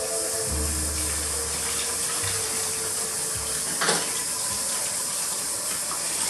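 Tap water runs steadily into a sink as a salty vegan fish ingredient is rinsed. The loud, continuous splashing has a brief extra splash partway through, and nobody talks.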